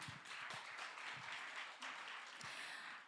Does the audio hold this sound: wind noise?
no